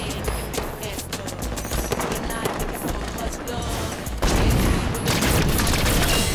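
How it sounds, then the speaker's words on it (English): Rapid bursts of binary rifle fire in a Halo 5: Guardians multiplayer match, dense and loud with overlapping shots and explosions, growing heavier near the end while players talk over it. "Hey, I killed the guy with the binary rifle."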